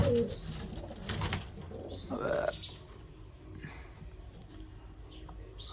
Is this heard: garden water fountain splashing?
no